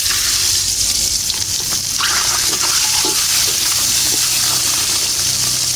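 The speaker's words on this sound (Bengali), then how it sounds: "এখন আমি ডিমটা ভেজে নিচ্ছি।" Duck egg frying in hot oil in a pan, giving a steady, dense sizzle and crackle that holds at an even, fairly loud level throughout, with no talking.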